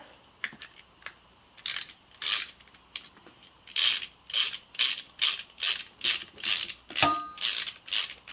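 A socket wrench ratchets on cap head screws during a cam cleat modification, starting with a few sparse clicks, then sliding into a steady run of loud, close bursts of ratcheting clicks with brief pauses between strokes.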